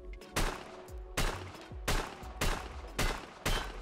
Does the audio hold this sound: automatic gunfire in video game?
yes